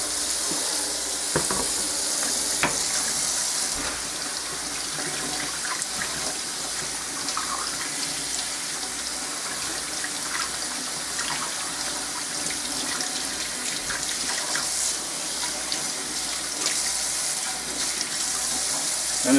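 Tap water runs steadily into a sink, rinsing paper clay off electric mixer beaters, with a continuous close splashing rush and occasional clinks of metal against the basin.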